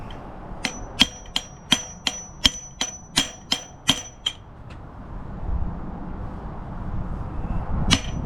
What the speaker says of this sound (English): so give it a hammer now, I believe